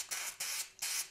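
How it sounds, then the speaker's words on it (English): Three short hissing sprays of fishing line polish onto a rag, evenly spaced, close and fairly soft, with no voices. "Just spray it onto a duster"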